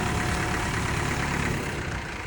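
A tractor engine runs steadily as the tractor is pulled out of mud with a rope. The engine drone is loud and close, with a dense, rough rumble and no break through the whole moment.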